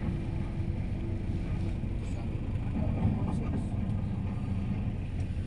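Steady low rumble of heavy, slow-moving traffic on the SCTEX expressway, a continuous dense engine drone with faint wind noise and a brief swell near the middle, while a voice talks over it.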